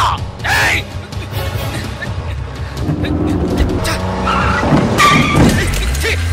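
Car speeding and skidding through a movie chase scene, engine roaring with tire screeches, loud and continuous under background voices and dramatic film sound.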